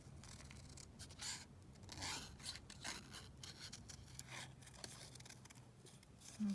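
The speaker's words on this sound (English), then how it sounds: "Let's just cut this little green bow down." Scissors snip through a small green ribbon bow, giving a run of close, quiet rasping cuts and soft rubbing scrapes in an uneven rhythm, with no talking.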